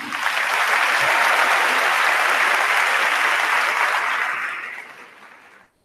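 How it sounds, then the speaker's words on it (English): A crowd at a high school commencement ceremony claps in a dense, steady round of applause that holds loud for several seconds, then thins and fades out near the end. "Let's give them another round of applause."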